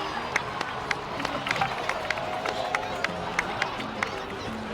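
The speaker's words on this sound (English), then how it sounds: "please give another round of applause for them" Crowd applause and cheering in the Genshin Impact video game, continuous clapping with sharp individual claps standing out, under dialogue from voices.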